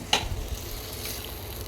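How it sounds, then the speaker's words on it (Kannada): Soft sizzling from a pot of spicy red-rice pongal as hot tempering is added, a brief crackle at the start and then a quiet steady fry. "ಒಗ್ಗರಣೆ ಮಾಡ್ಕೊಂಡಿದ್ವಲ್ಲ ಖಾರ ಪೊಂಗಲ್ಗೆ ಅದನ್ನು ಹಾಕ್ತಾಯಿದ್ದೀನಿ"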